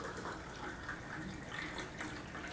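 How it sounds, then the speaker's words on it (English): Water is poured steadily into humic acid material, making a continuous splashing, gurgling stream at moderate distance without any speech. "Now I'm going to add some additional water into here"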